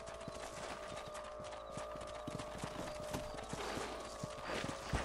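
Horse hooves clip-clop in a steady, rapid rhythm across open ground in Red Dead Redemption, a ranch setting, under a constant background layer of game ambience, with no speech.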